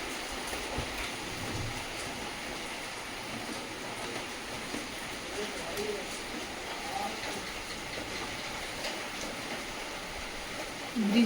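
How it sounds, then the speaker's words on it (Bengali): Rainwater runs into one spot of a house during rain, a steady broadband hiss of flowing water that continues evenly throughout, moderately faint, with no talking. "বৃষ্টির জলটা ঠিক এই জায়গাতে আসছে"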